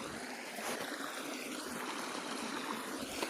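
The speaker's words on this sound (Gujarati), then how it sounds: "આ બાજુ ખેતરમાં પાણી ચાલુ થઈ ગયું" Irrigation water flows in a farm field with a soft, steady rushing and trickling, fairly faint and continuous, with no voices over it.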